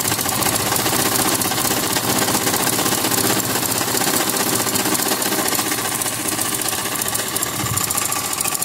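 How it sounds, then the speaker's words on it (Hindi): A sewing machine runs a straight seam in a long, even, rapid mechanical chatter that holds steady and fairly close throughout. "अब हम इसके पास एक बिल्कुल सीधी सिलाई लगा लेंगे।"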